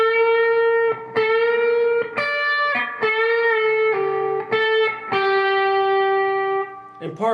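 Electric guitar with heavy distortion runs through a solo passage at a moderately quicker tempo, a string of picked and bent notes in uneven rhythm, loud and close with no talking.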